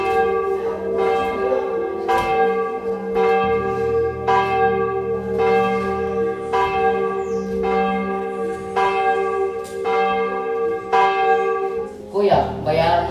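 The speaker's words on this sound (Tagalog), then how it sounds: "Kakalimpingin na ba natin ang kampana?" A church bell tolls loudly and repeatedly at a slow, regular pace, each strike ringing out and overlapping the fading hum of the last, in a school play.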